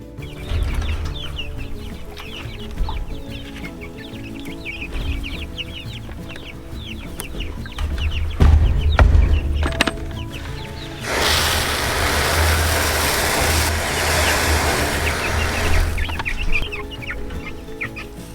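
Several chickens cluck and murmur steadily in an open pasture, with busy overlapping calls close by, a brief louder thump partway through and a stretch of broad rushing noise, like wind or moving water, toward the end.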